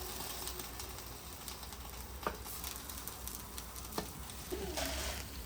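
Hash browns sizzle steadily in bacon grease in a pan, a constant crackling fry with a few sharp pops and faint background noises over it.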